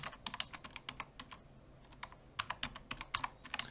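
Keyboard typing: irregular runs of sharp, close key clicks with a short pause near the middle, no voices.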